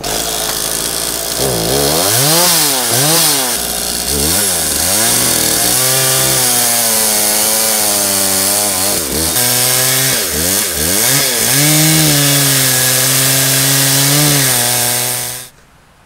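A chainsaw makes a felling cut into a tree during a forestry demonstration. The engine is loud and close, revving up and down in repeated surges, then holds a steady high pitch before cutting off abruptly.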